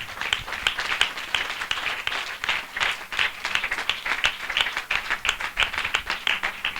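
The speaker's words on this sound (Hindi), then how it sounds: "हम जोरदार ताली से उनका स्वागत करें।" A church congregation applauds loudly at a spiritual assembly, a continuous crowd of claps with distinct sharp strikes pulsing through the whole stretch.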